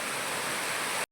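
A waterfall on the Harinmara trail in Mirsarai gives a steady, dense rushing roar of falling water, unbroken and fairly close, cutting off abruptly at the end.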